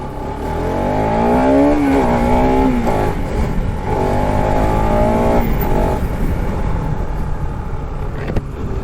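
A BS4 Bajaj Pulsar-style Wolf motorcycle being ridden, its engine droning loud and near with a rising rev around two seconds, then a steady throttle hum with slight pitch shifts and wind rush.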